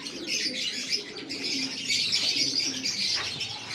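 Racing pigeons in a loft, a steady chorus of soft, low cooing with scattered chirps and a brief flutter of wings, fairly close and continuous throughout.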